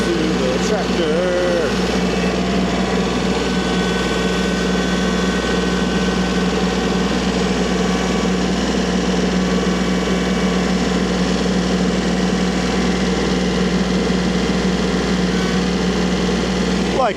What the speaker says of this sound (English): We're hooked up to the tractor.